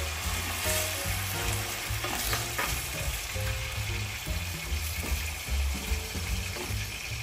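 Sweet and sour fish frying in a pan as vinegar goes in and is stirred: a loud, steady sizzle with a clatter of stirring and scraping throughout, no voices.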